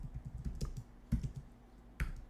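Keys clatter on a computer keyboard in a quick run of soft clicks, ending in a few firmer separate presses such as the Enter key, close and fairly quiet with no talk.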